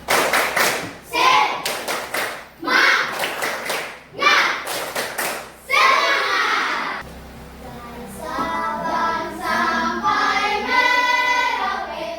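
Several rounds of rhythmic group hand clapping by children ring out in bursts, each a quick patterned series of claps, followed by children's voices chanting or speaking loudly.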